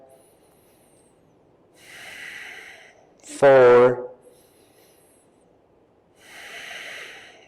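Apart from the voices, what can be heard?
deep breathing during hatha yoga pose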